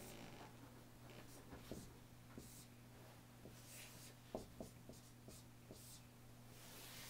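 A pen or pencil writes numbers by hand while working an absolute-value arithmetic problem, giving faint, scattered scratchy strokes and taps over a steady low electrical hum, with no talking.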